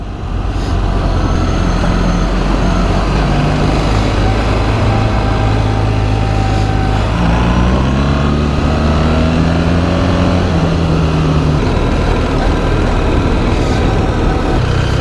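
A BMW GS motorcycle crawls along a back road in automatic mode, its engine droning loud and steady close by, the pitch dipping and then climbing smoothly midway with no gear changes, alone without speech.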